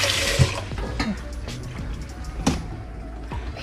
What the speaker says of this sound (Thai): เทน้ำออกเนาะ